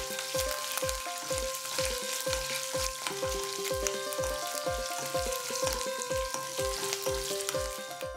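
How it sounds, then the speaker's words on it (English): Green chili and curry leaves fry in hot oil with a steady, bright sizzle and crackle, while a rhythmic series of low thumps, like a spatula stirring the pan, repeats throughout without any voices. "Fry."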